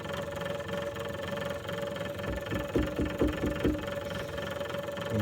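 A diesel engine idles with a steady mid-pitched rumble, running weakly without much power after a fuel pump check, with a few uneven knocking pulses partway through.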